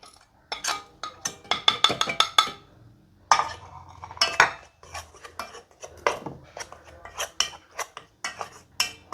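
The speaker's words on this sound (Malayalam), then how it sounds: "നന്നായിട്ടൊന്ന് മിക്സ് ചെയ്തിട്ട്" A spoon mixes a dry spice coating of garam masala, cornflour, rice flour and ginger-garlic paste for okra fry in a bowl, making repeated close metallic clinks and scraping strokes in quick irregular bursts with short pauses.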